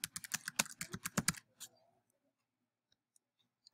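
Quick run of keystrokes on a computer keyboard while typing a title, a dense burst of clicks for about a second and a half, then a few isolated faint taps in near silence.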